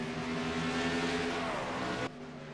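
A race car engine at Watkins Glen racetrack drones steadily and loudly with a sustained tonal whine, then drops away abruptly near the end.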